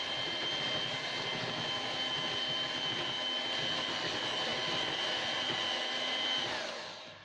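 A steady, loud electric mixer whirs continuously at close range with a high whine while mixing biscuit ingredients, then winds down and fades at the end.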